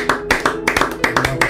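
Congregation clapping at a church service, a rapid rhythmic handclap with regular strong beats across the whole stretch, sounding fairly close and lively, with no words spoken over it.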